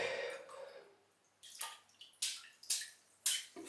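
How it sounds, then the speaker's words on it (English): A synthetic shaving brush is wetted under running water, a steady splashing stream followed by several sharp, close flicks and splashes as excess water is shaken off. "So we'll wet the brush and we'll gather out the puck."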